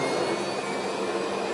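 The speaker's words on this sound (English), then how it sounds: "is the engines of this aircraft going into reverse" Loud, steady roar of aircraft jet engines going into reverse thrust, a broad rushing whoosh with no break, heard close up.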